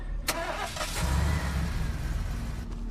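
A police car engine starts up: a short crank, then a steady low rumble that settles into a close, even idle with no talk over it.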